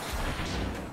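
Bomb units exploding in Animal Revolt Battle Simulator, a brief dense burst of rumbling blast noise that fills the whole moment at moderate loudness.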